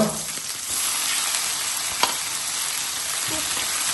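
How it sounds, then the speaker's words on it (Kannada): Chopped spinach, tomato and ginger fry in an oiled pan for a restaurant-style palak chicken gravy, giving a steady, loud broadband sizzle throughout with a single sharp tick near the middle and faint stirring. "ಇದನ್ನೀಗ ಫ್ರೈ ಮಾಡ್ಕೊಳ್ಬೇಕಾಗ್ತದೆ. ಈ ರೀತಿ ಫ್ರೈ ಮಾಡ್ಕೊಳ್ಳುವ."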